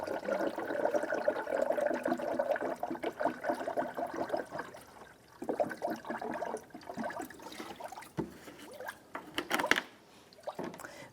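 Coolant concentrate and water pour into the radiator of a 1992-1996 Ford F-150, a faint gurgling trickle that rises and fades in uneven bursts, quiet and close.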